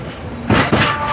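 A narrow-gauge train rolls through the Atar station on the Shargan 8 railway in Serbia, with two loud rumbling surges of wheels and carriage noise over a steady background.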